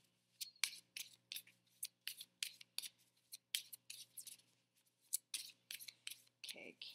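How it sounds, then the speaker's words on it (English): Oracle cards are shuffled and drawn: a rapid series of close, crisp flicks and slaps from the cards, in irregular bursts, over a faint steady hum in a quiet room. "I'm going to pull a few cards from the Enchanted Oracle for clarification"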